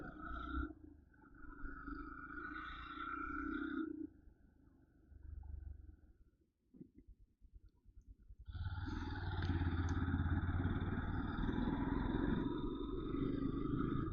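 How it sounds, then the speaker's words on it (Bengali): A Yamaha FZS Hybrid motorcycle turns around on a highway near a toll plaza. It sits fairly quiet and uneven at first, then a loud, steady engine roar with broad road noise takes over for the final stretch. "চলো আমরা এখান থেকে ঘুরিয়ে নিই আমাদের বাইকটাকে।"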